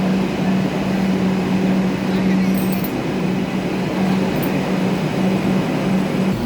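A metro train arriving at a station, a steady low rumble and hum throughout with a couple of brief high squeals, fairly loud and continuous, with a voice talking faintly in the background.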